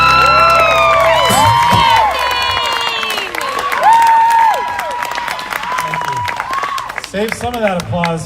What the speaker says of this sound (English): Save some of that applause for later on.